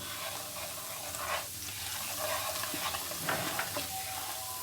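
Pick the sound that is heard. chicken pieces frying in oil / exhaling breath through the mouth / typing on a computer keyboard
chicken pieces frying in oil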